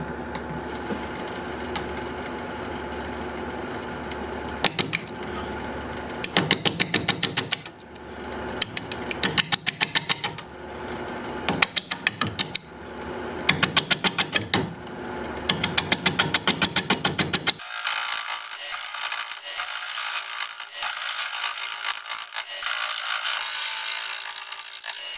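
Plum wood turning on a wood lathe at 400 RPM, cut with a 5/8 inch bowl gouge: a steady mechanical whir under bursts of rough, chattering cutting that repeat for about eighteen seconds, then give way to a quieter, hissing motor drone.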